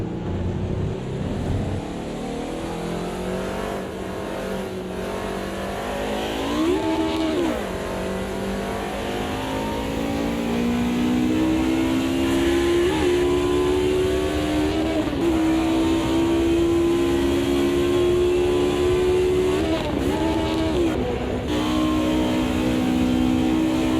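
A race car engine in a racing video game, played with a wheel that has a clutch, revs hard and climbs through gears, with short dips at each shift before it rises again, loud and continuous throughout.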